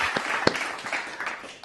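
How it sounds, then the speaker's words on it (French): Applause for Cameroonian president Paul Biya, a brief burst of clapping with a few sharp claps standing out over a steady spatter, fairly faint. "Applaudissez et applaudissez."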